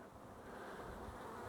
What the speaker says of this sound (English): I got a bunch of agitated, irritated bees.